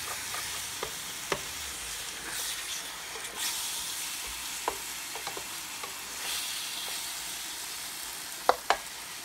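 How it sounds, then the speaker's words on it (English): Chicken and teriyaki sesame sauce are stirred in a hot pan, a soft steady sizzle and frying hiss broken by occasional scrapes and clicks of the utensil against the pan. "Okay, so we're going to kind of mix this up because we want this stuff to get hot"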